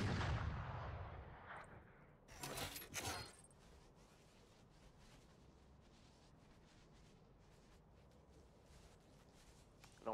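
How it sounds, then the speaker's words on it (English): Gunfire from a wallbang shot through a wall in a shooter video game: a loud burst of shots early, then quieter ambient game noise with faint taps. "I'm gonna hit this wallbang"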